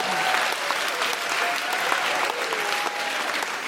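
An audience bursts into applause, a dense and loud wash of clapping that holds steady for the whole stretch, with no distinct voices standing out.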